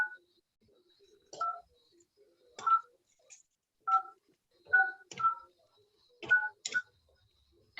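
A landline telephone keypad sounds dialing tones, about a dozen short beeps in uneven clusters separated by brief quiet gaps, crisp and close.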